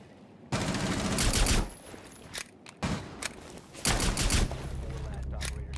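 Rapid gunfire bursts from Rainbow Six Siege, with loud automatic volleys in two main stretches separated by brief pauses, followed by a quieter steady rumble, with voices talking over the shooting.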